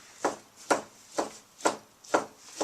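A knife slices through hot, freshly cooked beef for Tibetan shaptse, landing six evenly spaced strokes close by on a cutting board. Each stroke is a crisp cut that fades quickly, and no one talks.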